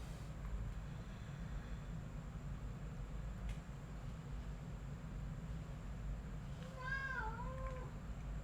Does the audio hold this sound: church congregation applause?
no